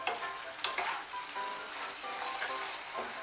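Pumpkin-leaf vegetables frying and being stirred in a pan over raised heat, a steady close sizzle with scraping stirs throughout, no talking.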